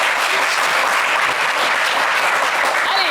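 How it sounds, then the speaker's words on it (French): A television game show studio audience applauds six contestants in a loud, dense, unbroken burst of clapping with a little crowd noise. "Allez, applaudissez pour les 6 candidats"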